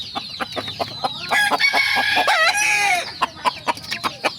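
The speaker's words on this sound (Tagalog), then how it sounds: "Yung kanyang mga manok na yan, nakalagay sa ito, mga bulik o ganito." A rooster crows loudly and close by in a backyard, surrounded by busy clucking from several chickens, with short sharp calls before and after the crow.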